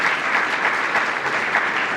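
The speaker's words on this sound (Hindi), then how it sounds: "हम सब तालियां बजाकर" A church congregation at Sunday worship claps together in a brief, dense burst of applause, even and continuous throughout.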